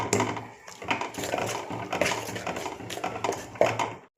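A spoon scrapes and knocks against a pan while stirring chili powder, salt, coriander powder and cumin powder into a tomato egg curry, giving steady close scraping and tapping with a few louder clinks.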